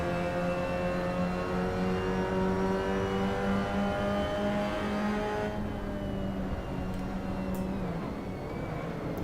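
Race car engine in a racing video game, braking into the first corner on cold tyres: a loud, steady buzzing drone holds for several seconds, then the revs drop sharply as the car slows.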